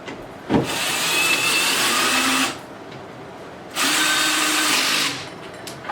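Power drill driving screws while assembling Mainstays furniture, two loud whirring bursts of about two seconds each separated by a brief pause, close up with no talking.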